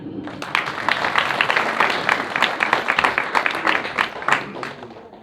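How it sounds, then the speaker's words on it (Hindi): A room of people at a spiritual centre gathering claps for themselves, dense lively applause building quickly and holding steady for several seconds. "सबसे पहले आप खुद के लिए ताली बजाएंगे"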